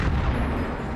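Gunfire and a small explosion from an action scene in the RoboCop film: a loud, dense, low-heavy blast that rumbles continuously for about a second with no talking.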